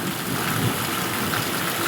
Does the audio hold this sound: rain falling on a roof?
yes